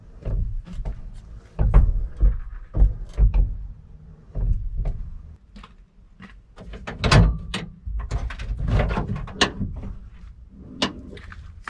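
The stuck door latch of a 1973 GMC truck clicks and clunks repeatedly, opening and closing several times with sharp metallic snaps and rattles, close by.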